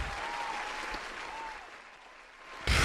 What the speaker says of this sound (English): Let's get a little round of applause for Ace.